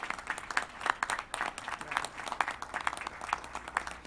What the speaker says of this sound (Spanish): agradecerles a todos los presentes con un aplauso al antropólogo que nos honra con su visita